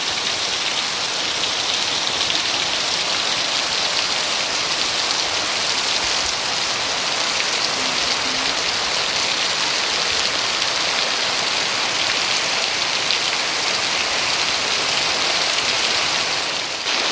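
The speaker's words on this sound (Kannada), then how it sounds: "ನೋಡಿ ಎಷ್ಟು ಜೋರು ಮಳೆ ಬರ್ತಾ ಉಂಟು ಅಂತ." Heavy rain pours down steadily, a dense continuous hiss of drops striking surfaces outdoors near a home garden, loud and unbroken throughout with no voices.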